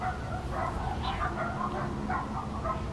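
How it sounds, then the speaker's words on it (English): A dog barks and yips repeatedly in short bursts throughout, moderately loud against a steady background hum, with no one talking. "It's always something, usually barking."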